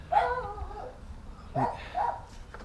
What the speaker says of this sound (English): There's next door neighbour's dog